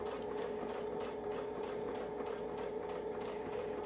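A sewing machine runs steadily at close range, stitching a quilted block along a zigzag template in an even, fast mechanical whir with a rhythmic pulse of the needle.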